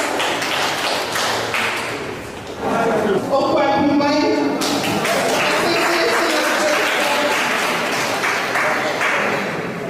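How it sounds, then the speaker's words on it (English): Audience clapping at a Ghanaian community gathering in Tripoli, Libya, steady crowd applause with a tonal musical or vocal passage rising over it midway, continuing loud to the end. "The Ewe Union, a round of applause."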